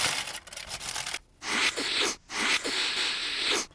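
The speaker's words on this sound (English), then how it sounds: "I'm gonna open it up and see if they gave me the right sandwich." Paper wrapping around a Wendy's North Pacific Cod fish sandwich is pulled open nearby, a few short bursts of crinkling and scraping broken by brief pauses.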